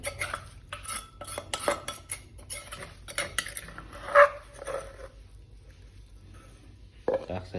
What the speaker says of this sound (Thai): แล้วเราก็มาตักใส่ถ้วยครับผม